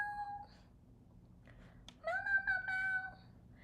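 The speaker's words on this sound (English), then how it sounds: "He is a silly cat," A cat gives two meows nearby, a short one at the start and a longer, louder drawn-out one after a quiet pause, in an otherwise calm room.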